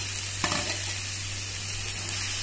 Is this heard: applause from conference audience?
no